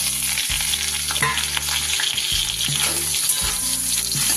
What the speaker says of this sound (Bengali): এবার আমি এই সোয়াবিনগুলো একটু নেড়ে নেবো